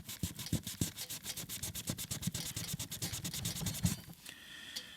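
Rapid back-and-forth rubbing of an eraser over Pica marker and pencil marks on a PVC board, a dense run of scratchy strokes close up, ending in a brief softer scrape.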